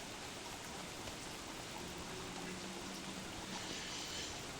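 Steady rain falls in the Don't Starve video game, a soft even hiss of drops that holds at a constant level throughout with no voices.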